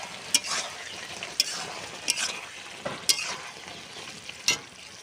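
A spatula scrapes through a vegetable curry frying in mustard oil, five or six sharp, close strokes against the pan spaced about a second apart over a low, continuous sizzle.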